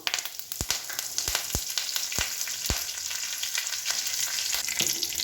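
Curry leaves crackle and sizzle in hot oil with mustard seeds and cumin for vaghareli bhakri, a steady frying hiss broken by several sharp pops early on, close and without talk.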